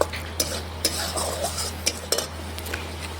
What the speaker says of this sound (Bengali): এখন নাড়াচাড়া করে ভালোভাবে একটু রান্না করে নিয়ে পরিমাণ মতো আমি জল দিয়ে দেব।